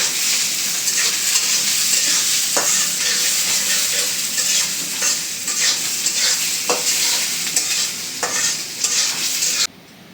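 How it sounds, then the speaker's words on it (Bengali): Onions and green chilies sizzle loudly in soybean oil in a wok, a constant hiss broken by scraping stirs of a spatula, close and continuous until it cuts off near the end. "পেঁয়াজটা ভাজা নিই"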